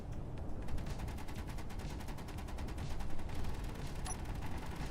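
Rapid, evenly paced bursts of turret gunfire in Space Engineers, shooting at incoming rocks, form a steady dense rattle across the whole stretch at moderate loudness with no talking.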